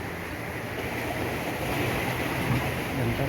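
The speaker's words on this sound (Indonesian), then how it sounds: "Ini suara ombak nih." Surf rolling in on Pangandaran beach at Pananjung, a white-sand shore in Indonesia, heard as a steady, full wash of breaking waves that swells slightly louder partway through, with no voices.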